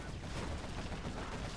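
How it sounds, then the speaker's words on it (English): Cannons firing in a real-time strategy video game match, a dense continuous barrage of rapid overlapping blasts at low volume, with no clear gaps between shots. "quad cannon harassment here from Ninja"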